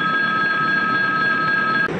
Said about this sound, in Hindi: अब हमारी ट्रेन को सिग्नल दे दिया गया है। अब ये ट्रेन यहाँ से